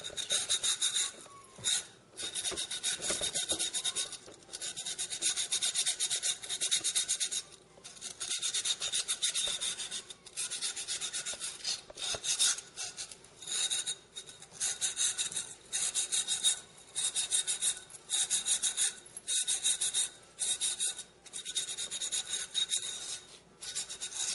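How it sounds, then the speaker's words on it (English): Silicon carbide cloth rubs back and forth along the cut edge of a glass bottle, making a gritty, rasping scrape in repeated strokes with short pauses between passes. "take a little cloth, a silicon carbide cloth, and just go along the edges of it"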